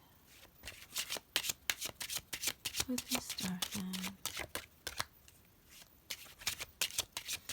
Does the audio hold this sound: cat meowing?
no